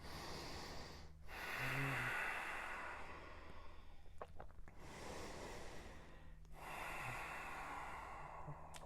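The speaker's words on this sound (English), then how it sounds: "Take 3 more breaths." Slow, deep breaths during a full-body yoga flow, long airy inhales and exhales with brief pauses between them, close and fairly quiet, with no talking.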